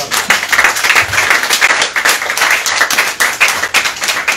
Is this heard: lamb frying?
no